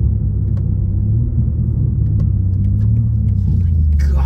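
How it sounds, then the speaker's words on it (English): A 2023 BMW M2's exhaust crackles and burbles through a mild downshift around 2,800 to 3,200 rpm, a steady low rumble filling the whole stretch, close and loud, with a voice talking over it. "Listen to that cacophonous exhaust. That's not even an aggressive downshift."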